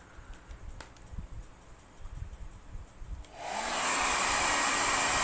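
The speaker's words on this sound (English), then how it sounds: "I'm using a hairdryer as the wind source" Faint rustling and light tapping give way to a hair dryer switching on and blowing steadily with a loud, airy whoosh that continues to the end.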